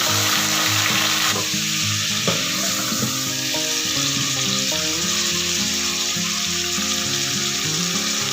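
Half a kilo of chicken wings frying with golden browned onions in a pan, a loud continuous sizzle close by with scraping stirs and a few clanks, no voices.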